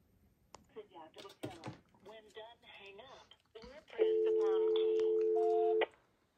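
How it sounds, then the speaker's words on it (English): Voicemail on-off FSK signalling that switches a phone's message-waiting indicator on a phone line: a steady, loud warbling data tone of about two seconds, preceded by short dialing-like tones and a voice. "Now let's demonstrate voicemail on-off FSK. This is the signal that turns on or off a phone's message waiting indicator."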